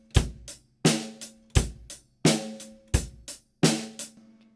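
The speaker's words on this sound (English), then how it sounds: "now we're going to get on to actually how to play the basic drum groove" A basic drum groove on a drum kit, with sharp kick and snare hits and ringing cymbal wash repeating in an even pattern, close and alone with no talking.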